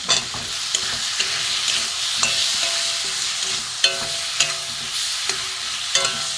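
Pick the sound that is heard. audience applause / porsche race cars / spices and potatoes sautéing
spices and potatoes sautéing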